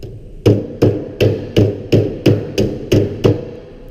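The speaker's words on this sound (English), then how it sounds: "I like to use the side of my hammer. It'll give you a smoother seam when it's complete." Hammer blows with the side of the head close up the sheet-metal seam of a Pittsburgh corner lock: nine sharp, evenly spaced metallic strikes at a steady rhythm, loud and close, with no talk.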